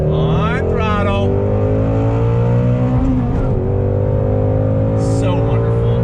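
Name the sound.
Ford Shelby GT350 engine revving under throttle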